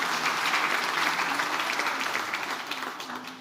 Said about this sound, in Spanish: Sí, aplaudamos